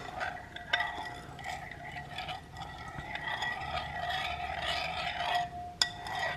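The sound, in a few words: stirring soup in a bowl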